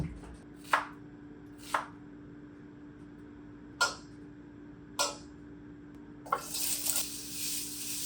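Onions chopped on a cutting board, five crisp knife strikes spaced a second or more apart, close and quiet, followed by running tap water.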